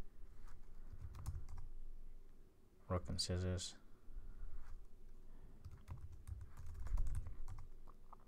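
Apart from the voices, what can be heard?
typing on a computer keyboard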